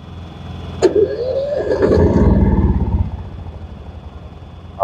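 An out-of-gas Powerhorse 7500i inverter generator cranks once with a sharp pull, its engine turning over and sputtering briefly for about two seconds without catching, then fading away; no talking.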